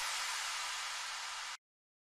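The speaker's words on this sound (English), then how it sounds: "In the drop we just added an impact, which is a white noise based impact from Astral." White noise based impact effect from the Astral library, a bright dense hiss held at full strength for about a second and a half before cutting off abruptly into silence.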